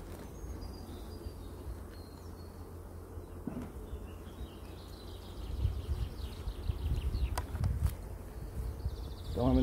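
Honeybees buzz faintly in a hive super fitted with ten frames of foundation, a soft continuous hum with scattered knocks and rustles of frames being handled, growing slightly louder toward the end.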